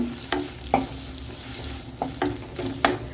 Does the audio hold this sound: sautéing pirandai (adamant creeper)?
yes